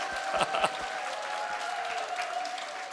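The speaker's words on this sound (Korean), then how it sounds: "한번 뜨거운 환영과 감사의 박수 하겠습니다." A Korean church congregation gives warm applause to welcome visiting pastors during a Sunday service, a short burst of steady, moderately loud clapping with a few sharper claps at the start.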